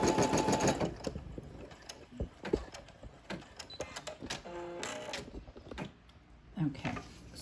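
An embroidery machine stitches a strawberry patch on twill over plastic stabilizer, producing a quiet, rapid mechanical chatter with clicks and small rattles throughout.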